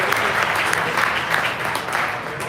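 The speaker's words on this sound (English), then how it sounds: "Can you give another round of applause real quick to Christian Peterson and Archon Corner." A crowd claps steadily and loudly throughout, a dense, even patter of applause.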